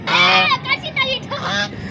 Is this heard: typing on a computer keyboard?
no